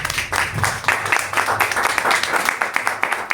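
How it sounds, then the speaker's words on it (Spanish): A church congregation applauds during a seventh-anniversary service, a steady patter of many hands clapping at close range for the whole stretch, with some voices mixed faintly underneath. "Den un fuerte aplauso a Dios."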